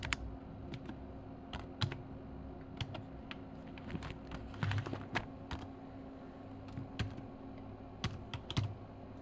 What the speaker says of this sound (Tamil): அந்த பேஜ் நேமை நீங்களே இங்கே டைப் பண்ணிக்கலாம்